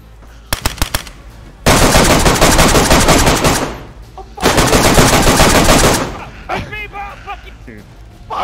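Automatic gunfire from the video game DayZ rips out in two long, loud, close bursts after a few single shots, with a voice talking in the gaps.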